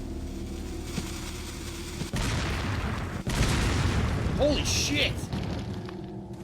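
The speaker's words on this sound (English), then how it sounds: "We caused a chain reaction. A chain reaction of the boom booms." A chain of explosions goes off in the Resident Evil 4 village, loud rumbling blasts starting around two seconds in and rolling on, with someone shouting over them.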